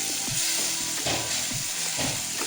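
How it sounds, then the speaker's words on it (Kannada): Green chili, ginger and garlic paste frying in a pan, a steady loud sizzle with intermittent scraping stir strokes repeating about every half second, close by and without talk. "ಇದೆಲ್ಲ ಚೆಂದಾಗಿ ಫ್ರೈ ಮಾಡ್ಕೋತೀನಿ."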